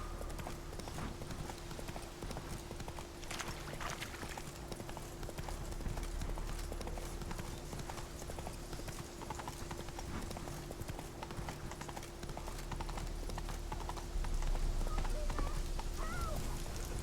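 Hooves of Roach, the horse in The Witcher 3, clip-clopping in a steady continuous gait throughout, close and fairly loud over a low game hum with faint ambient noise.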